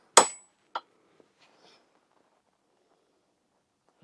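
A hammer drives a punch to drift an Angry Bear dovetail sight mount, with two sharp, close metallic strikes followed by faint taps and quiet.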